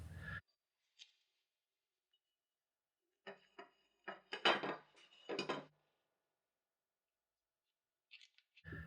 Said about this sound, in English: Tap the roll pin into the receiver just enough for it to stay in place on its own.